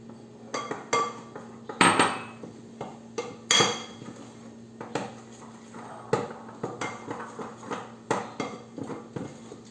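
Dough stirred in a bowl, with irregular clinks and knocks of a utensil striking the bowl's sides between softer scraping, close by and fairly quiet, with no talk.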